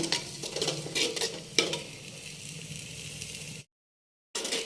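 Green chickpeas roasting in a pot (handi) while being stirred, a bright crackling sizzle with repeated scraping strokes of a spoon, close by, then a brief cut to silence before the sizzle returns.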